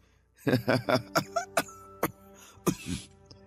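A burst of several harsh coughs in quick succession, close and loud, followed by a couple more hacking coughs after a short pause.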